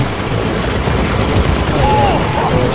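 A helicopter in Far Cry roars loud and close with a steady rotor throb and high whine, filling the whole stretch with no one talking.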